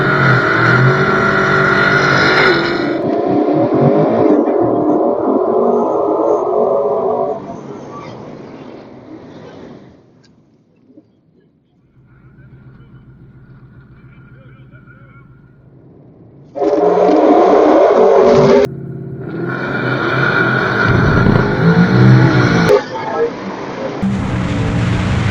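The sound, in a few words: Tesla Plaid drag racing a Hellcat down the quarter mile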